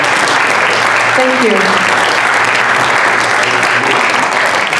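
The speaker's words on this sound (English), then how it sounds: "Can we have a large round of applause for our Senate candidates tonight and their surrogates for being here with us?" Sustained applause from an audience at a US Senate candidates debate, steady and dense throughout, with a brief spoken thanks partway through.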